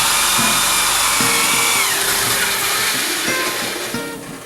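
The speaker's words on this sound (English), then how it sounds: "I'm going to re-drill the hole through the steel door" A power drill bores a hole through a steel door, its loud whining motor holding steady pitch, dipping and rising as the bit bites, then easing off toward the end, with no talking.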